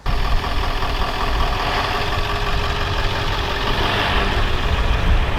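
Ford F-350 7.3 PowerStroke diesel engine running steadily with a low, rough rumble and constant drone, close and loud, no talking.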